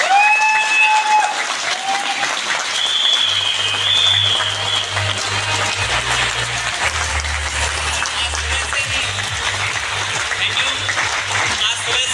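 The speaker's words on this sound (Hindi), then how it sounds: "एक बार जोरदार ताली बजाइए" A large audience in a hall claps loudly and steadily, a sustained round of applause that lasts throughout, with a voice heard over it at times.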